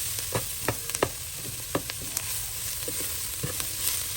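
Mushrooms fry in a pan for chicken dumplings with a steady, close sizzle, broken by scattered light clicks and scrapes of stirring.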